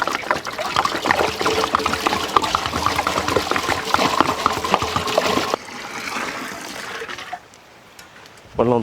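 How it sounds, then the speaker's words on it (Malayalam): Water is poured into a cooking pot on an outdoor village hearth, a close, busy splashing stream that thins to a softer trickle and then stops. "വെള്ളം ഒഴിക്കാം."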